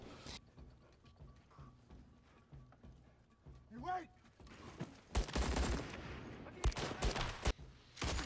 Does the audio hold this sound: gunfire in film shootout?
yes